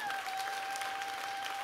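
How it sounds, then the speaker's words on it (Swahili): Church congregation applauding during a Sunday sermon, a steady, dense wash of clapping from many hands, sustained and fairly loud throughout, with a faint tonal hum running underneath. "Mke wapigia makofi mengi."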